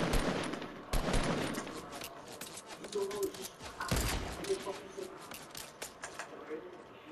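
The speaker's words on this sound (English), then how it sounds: "Just keep on shooting the hut." Gunfire from the Fortnite video game crackles in quick bursts of shots beneath excited talking players, with some sharper single reports standing out in the mix.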